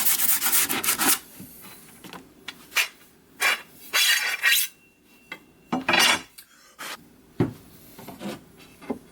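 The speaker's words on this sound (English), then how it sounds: "A good scuffing. I've got some 80 grit sandpaper." Coarse 80-grit sandpaper scuffs across wood in short, irregular bursts of gritty rubbing, close by, with brief quiet gaps between strokes.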